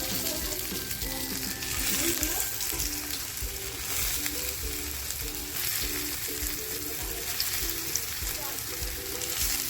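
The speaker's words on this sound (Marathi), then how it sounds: "पॅनमध्ये तेल टाकलंय मी आणि आता ही मी शॅलो फ्राय करते बघा" Coriander vadi cakes shallow frying in oil in a pan give a continuous close sizzle and crackle, with a faint rhythmic background tone running underneath throughout.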